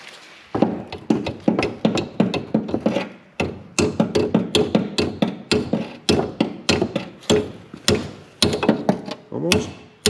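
Repeated hammer blows while new shocks go onto a 1993 Geo Metro, a dense run of sharp metallic strikes at an uneven, quick rhythm, close and loud throughout, with brief pauses between bursts.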